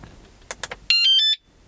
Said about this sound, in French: il va me faire 2 bips pour me dire qu'elle est en fonctionnement